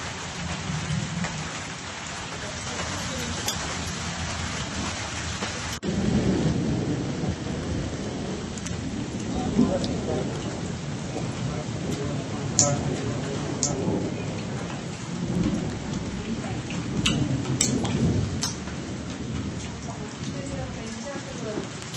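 Heavy wind-driven rain lashes down in Chikkamagaluru during a thunderstorm, with a dense continuous roar of downpour, gusts surging, and sharp cracks and rumbles of thunder breaking through; a voice speaks over part of it.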